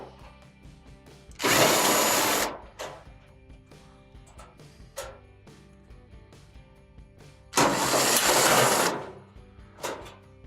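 A power driver backing out 5/16 panel screws on an Amana dryer, two loud whirring bursts about a second long each, close up, with light clinks and handling noises between them.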